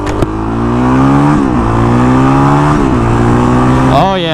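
A 2020 Honda CRF450L dual-sport motorcycle engine revs loud and close, its pitch climbing in steady sweeps through gear shifts with brief dips between pulls.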